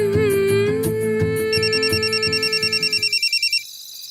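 A telephone rings in a TV serial drama scene, with a repeated electronic trill in several bursts that grow louder and more evenly pulsed toward the end, over a background music bed.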